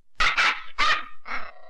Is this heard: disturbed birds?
no